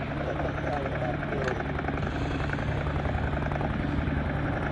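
An AH-1W Super Cobra attack helicopter in the Strike Fighters Modern Combat game gives off a loud, constant rotor thrum and engine drone, steady and close throughout.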